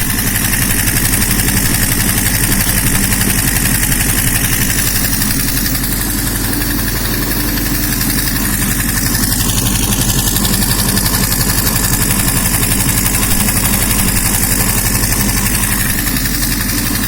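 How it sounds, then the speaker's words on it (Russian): A used 1992 Subaru Legacy BF5 EJ20G turbocharged engine idles steadily on a test stand, a continuous, even mechanical hum with a fine rapid pulse that stays loud and unchanging throughout. "Турбина работает."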